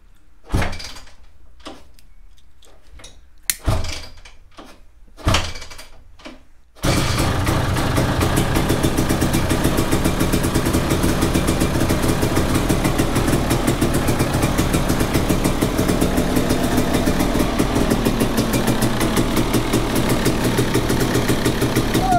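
A KTM EXC 300 motorcycle cold-starting after several sputtering attempts and bangs, then settling into a loud, steady idle with no throttle for the rest of the span, close by.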